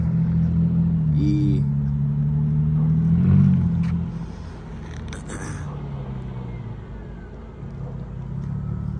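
A supercharged-sounding V6 engine in a Mercedes sports sedan rumbles and hums nearby, rising briefly around the middle then settling to a lower idle before building again, with faint voices in the background.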